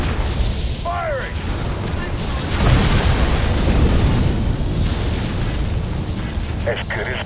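Artillery fire and explosions in Halo Wars, with deep booming blasts and rumbling impacts in a continuous battle mix, while a voice speaks over the fighting.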